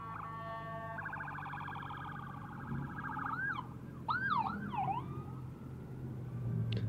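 An ambulance siren wails along the road, heard from a motorcycle. The wail starts as a steady tone, then sweeps up and down in repeated yelps. It is moderately loud over the low rumble of traffic and engine.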